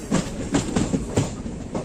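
A moving passenger train on the Jammikunta–Kazipet line gives a steady rolling rumble. Its wheels click rhythmically over the rail joints at a moderate pace, heard from inside the carriage.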